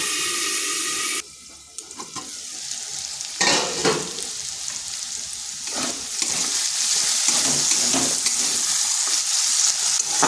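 Diced potatoes fry in a covered pan for a vegetarian drumstick-flower dish, with a steady close sizzle throughout, a brief drop near the start, and occasional louder crackles and scraping bursts as the lid or spoon moves.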